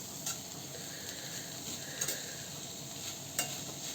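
Potatoes sauté quietly in a pan for a cluster bean and potato dish, a faint low sizzle with three sharp spoon ticks against the pan spaced apart.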